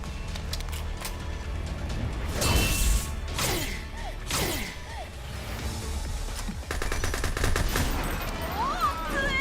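Video game combat with a series of loud booming explosions and whooshing blasts, followed by rapid gunfire and crackling debris, dense and continuous.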